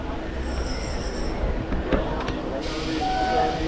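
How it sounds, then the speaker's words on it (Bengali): A Kolkata Circular Railway local train pulls away from Majerhat station with a rumbling roll, a few sharp clanks and a thin wheel squeal, nearby and fairly loud. "এই ট্রেন ছেড়ে দিল"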